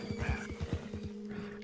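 A horse in the video game Red Dead Online gives a short, close whinny, with a few soft hoof clops beneath it, and the sound falls quiet after about a second.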